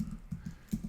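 Quick keystrokes on a computer keyboard, several soft muffled taps in an uneven patter, close and fairly quiet with no voice.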